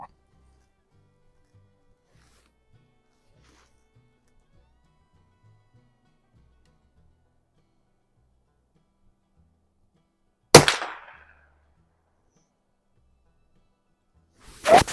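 Two sharp, loud reports from a Daisy model 2202 Legacy .22 LR bolt action rifle fired at an outdoor range, one near ten seconds and another at the very end, with a brief decaying tail after the first and near silence between.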